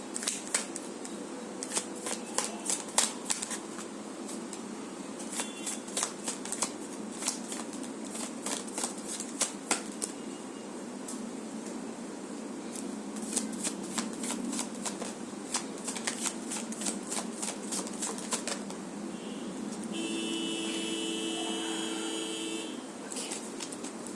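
Tarot cards are shuffled by hand for a long stretch, giving repeated riffling bursts and soft card slaps that come in uneven clusters, close and clear, with no talking.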